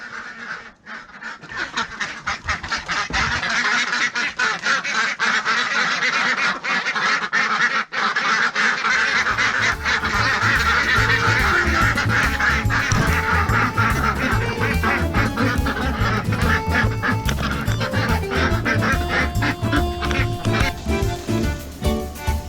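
A flock of geese honks loudly and continuously, dense overlapping calls growing fuller partway through, close by and with no talking.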